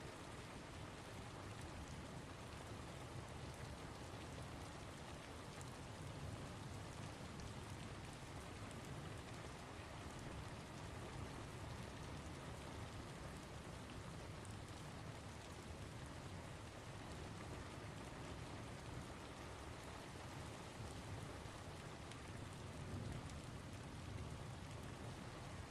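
Steady rain falls without pause, a dense, even hiss that stays constant and fairly soft throughout, with no voices or other sounds breaking through.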